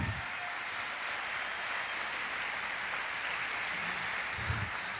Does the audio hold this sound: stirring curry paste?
no